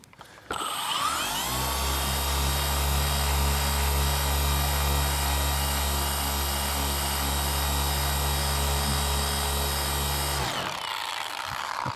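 Power polisher buffing the Techno Violet paint of a BMW G80 M3 50 Jahre Edition, a loud steady motor whine that starts abruptly, holds constant for about ten seconds, then cuts off, with no talking.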